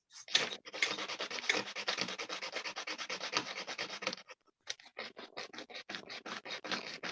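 Steady back-and-forth sanding on wooden case furniture, close and fairly loud, with rhythmic rasping strokes that briefly pause midway before resuming in shorter passes.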